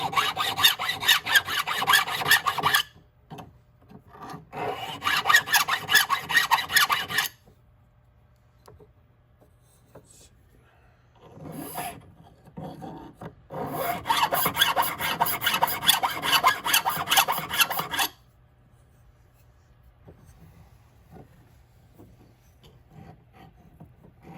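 A half round file rasps rhythmically against a metal sand casting in two long bursts of back-and-forth strokes, close and harsh, separated by quiet pauses.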